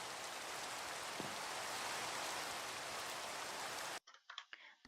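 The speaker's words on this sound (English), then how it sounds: "Now it's raining." Steady game rain in a chicken-raising video game, a dense even hiss of falling drops that cuts off abruptly near the end, leaving brief quiet rustles.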